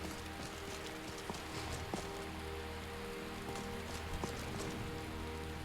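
Rain falls in the video game Skyrim, a steady, even hiss of downpour with scattered patters and occasional faint thumps underneath, no voices.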